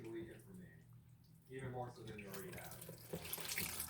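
Running tap water splashes over hands being washed at a kitchen sink, a soft steady flow that grows louder and more spattery partway through, with a voice speaking over it.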